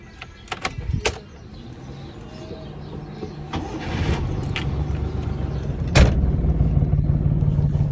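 A friend's car, low on petrol, cranks and starts: clicks and key handling first, then the engine catches into a steady idle that rumbles on loudly with a louder surge near the end.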